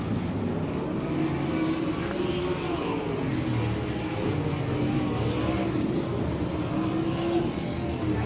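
Sprint race cars roaring around a dirt oval at an All Star Circuit of Champions night in Fremont, Ohio, a loud continuous engine drone rising and falling as the cars pass, with no talk.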